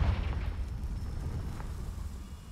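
A Confringo blasting spell in Hogwarts Legacy lands as a heavy rumbling boom that fades out over a couple of seconds, with no talking.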